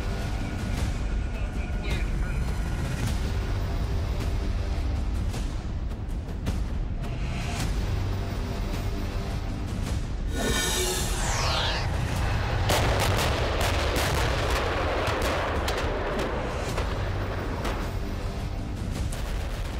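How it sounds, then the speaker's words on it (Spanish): Armored tanks fire their cannons during the Iron Spear 2022 NATO military exercise, heavy booming shots and rolling blasts over a constant rumble, with a voice heard faintly in places. "Es el sonido de los disparos de tanques blindados en pleno ejercicio"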